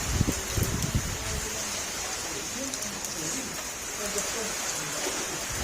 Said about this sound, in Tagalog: lakas ng ulan